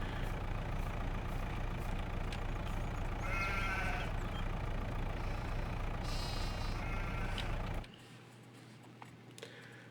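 Sheep bleating in the Farming Simulator 22 farm game rises above a constant loud engine and vehicle hum, with a few short bleats in the first half before the machinery noise suddenly drops near the end.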